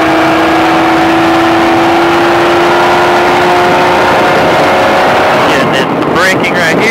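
A car accelerates on the SpeedVegas Baja off-road track, a loud steady engine drone with heavy wind buffeting throughout, shifting and rougher near the end.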